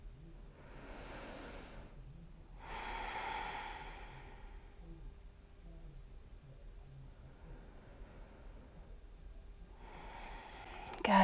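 Slow, deep breathing during a gentle yoga pose, several soft airy inhales and exhales spaced a few seconds apart, quiet and close, with no talking.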